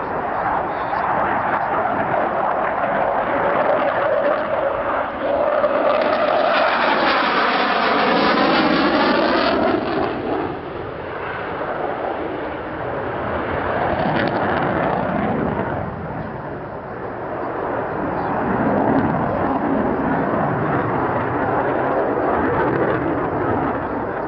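A jet aircraft powered by two Turbo Union RB199 engines, each around 16,000 pounds of thrust, roars past in reheat at a 1986 Old Warden airshow, its loud, surging rumble swelling and sweeping in pitch as it turns.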